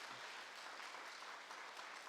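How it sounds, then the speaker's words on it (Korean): A Presbyterian church congregation at a Sunday service claps steadily to welcome new members. The applause is a dense, even wash of many hands, fairly faint and distant throughout, with no voices over it. "격려와 환영의 박수를 크게 쳐주시기 바랍니다."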